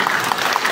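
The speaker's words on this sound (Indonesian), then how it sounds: "Tepuk tangan Bupati Mamasa." Brief applause from an audience at a government ministerial visit, a short burst of clapping at moderate volume with no voices over it.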